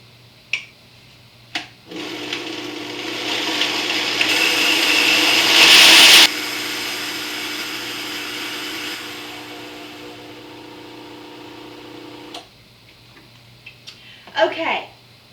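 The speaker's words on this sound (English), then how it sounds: "I have all of my dry ingredients with the exception of the salt and the yeast in this blender that's with Vitamix. So I'm going to make my flour now." A Vitamix blender grinds dry bread ingredients into flour, its motor whirring loudly for around ten seconds, climbing to a harsh peak and then easing down before stopping, framed by a few clicks and brief talk at the end.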